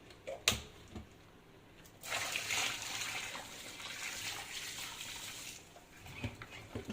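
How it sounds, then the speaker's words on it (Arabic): Hot water poured over cleaned beef trotters in a bowl, a steady splashing pour of about three and a half seconds after a few clinks, close and moderately loud, with light handling noises around it. "وهحط عليها ميه سخنه"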